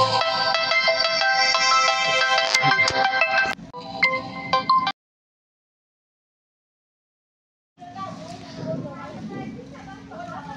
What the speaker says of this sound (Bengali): বারবার ফোন এসে যায়।